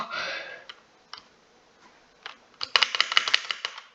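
Typing on a faulty computer keyboard during a Stumble Guys game, with scattered single clicks and then a rapid close burst of loud keystrokes toward the end.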